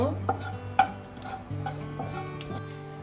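Whole cumin, cardamom, a cinnamon piece and cloves fry in a little oil in a pan, a faint sizzle under sharp clinks and taps of a spoon against the metal.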